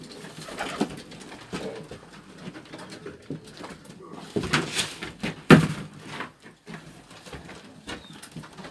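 Tajik pigeons in Dushanbe coo repeatedly, soft and close, with a few louder knocks and a thump like a door in the middle.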